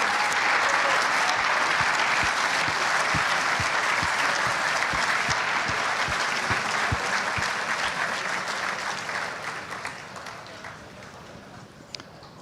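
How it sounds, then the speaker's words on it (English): A big crowd applauds marshals and volunteers at the Formula Student 2025 closing ceremony, dense clapping with sharp individual claps cutting through before it slowly thins and fades toward the end. "big round of applause for all our marshals and volunteers out on track today"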